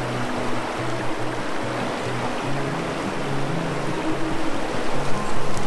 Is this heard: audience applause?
no